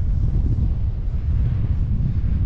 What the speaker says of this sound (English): man, it's super windy.